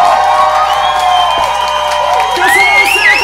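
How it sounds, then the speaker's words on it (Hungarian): A concert audience at a solo recital in Siófok gives a loud, dense burst of applause mixed with cheers and whoops. "pár tapsot szeretnék kérni a két itt ülő úrnak és hölgynek"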